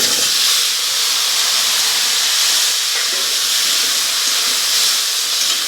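Vegetables hissing loudly in hot oil with ground turmeric in a pan, a dense, even sizzle close by throughout, with no talking.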